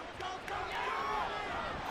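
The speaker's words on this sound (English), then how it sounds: "this home crowd is in a frenzy as their guys have pulled it out of the" In a football video game, a home crowd roars in a steady, excited frenzy after an overtime winning field goal, with a commentator talking over the noise.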